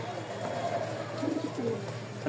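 Rajshahi Giribaj pigeons coo softly in low, rounded phrases, close by, with a steady background hum throughout.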